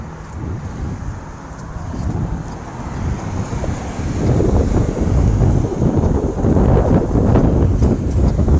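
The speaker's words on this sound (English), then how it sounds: "And the wind is picking up just a little bit, so my apologies." Strong gusts of wind buffet the microphone on an outdoor walking trail in Kent County, Michigan, on a hot cloudy May day, a steady roar that swells louder partway through.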